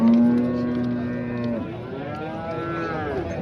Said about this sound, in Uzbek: Mana shu sigirchamiz.